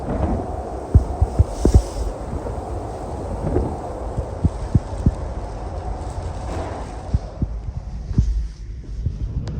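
Strong wind buffets the microphone in a steady roar with heavy low rumbling gusts at Portland Castle during a storm, continuous throughout and easing slightly near the end.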